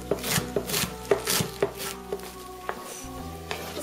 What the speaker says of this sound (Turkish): Bu yüzden saplarıyla birlikte ıspanaklarımızı doğruyoruz.